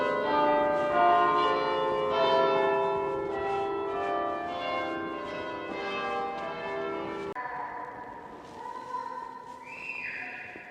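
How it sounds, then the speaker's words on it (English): A bell weighing over seven tons chimes in the southwest tower of Beverley Minster, its rich ringing tones swelling and sustaining, then fading into quieter ambient sound with no talk. "in the southwest tower they've got a bell here that weighs over 7 tons and chimes on the hour"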